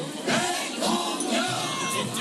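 A large crowd at a Gwanghwamun rally in Seoul cheers and shouts while waving flags, a dense, continuous roar of many voices with rising whoops, heard at moderate distance throughout.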